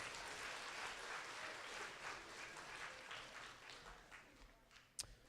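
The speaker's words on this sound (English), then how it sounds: "Give them a round of applause for round 1." Audience applause at a school spelling bee, quiet and distant, a soft steady patter of clapping from a small crowd that thins out toward the end, with a single louder knock near the finish.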